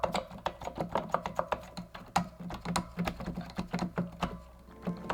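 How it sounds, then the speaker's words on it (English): Key clatter from a Synido TempoKey W25 compact MIDI keyboard, a rapid run of close, dry plastic clicks and thumps in a busy, uneven rhythm, loud and with no voices over it. "many of my viewers asked about key noise on my previous reviews, so I will let you be the judges on that one"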